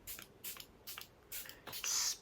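Mini-size setting spray spritzed toward a face in several short, airy bursts, about five hissing puffs spaced unevenly, the last one longer and strongest, close and fairly quiet with no talk.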